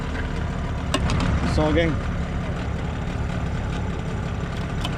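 A fishing boat engine runs at a steady low idle close by, while someone speaks briefly over the drone.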